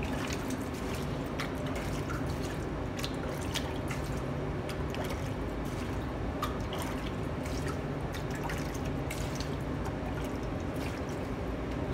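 About a litre of water poured steadily into a cooking pot while making Indian butter chicken, a continuous close splashing and trickling with no pauses.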